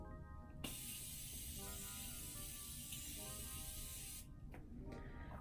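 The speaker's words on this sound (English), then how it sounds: "and I'm gonna spray my face." Continuous fine-mist spray of Morphe Continuous Setting Mist onto a face, a steady close hiss lasting several seconds, then a short pause and a brief second burst.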